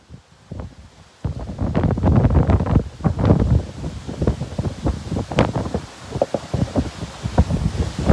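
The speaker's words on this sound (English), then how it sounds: "Just want to show you the winds" Strong wind from Hurricane Ian blows over the water at Charleston, buffeting the microphone with loud, gusty roaring and rustling bursts that start after a brief quiet moment and continue unevenly.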